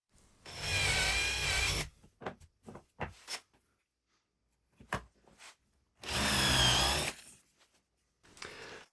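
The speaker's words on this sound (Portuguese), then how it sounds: "estou apenas furando um buraco de 5 milímetros nos 4 cantos" A drill bores 5 mm holes through stacked 6 mm and 12 mm wood sheets, two loud sustained bursts of whirring with brief clatter and handling noises between them.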